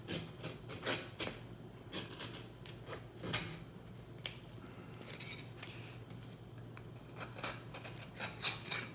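A blade shaves a wargaming wall section at a 45-degree angle for a ruined-city model, giving a run of quiet, close scraping and rasping strokes in uneven bursts.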